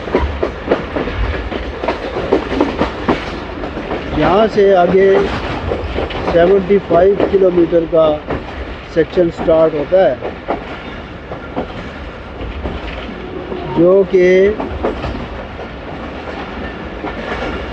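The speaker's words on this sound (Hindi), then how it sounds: "ये अभी चकराला विलेज से गाड़ी गुजर रही है।" The Pakistan Express rumbles past Chakrala village at dawn with a loud, continuous rolling roar and rhythmic wheel clatter, while someone talks over it.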